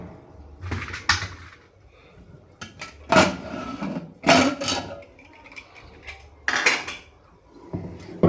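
Pots, pans and serving utensils clank and scrape as home-cooked dal and rice are dished out in a kitchen. The knocks come in several sharp bursts with quieter handling between them, and no one speaks.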